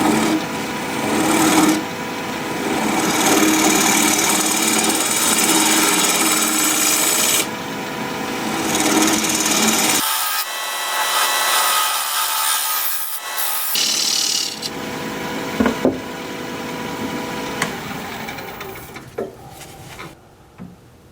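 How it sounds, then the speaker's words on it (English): A wood lathe spins curly maple while a 1/2 inch bowl gouge cuts a recess at about 1000 RPM, giving a loud, close, continuous rasping hiss that drops out briefly, then resumes in choppier bursts. "I'm going to switch to a 1/2 inch bowl gouge to make the recess. Now turn the speed up to 1000 RPM"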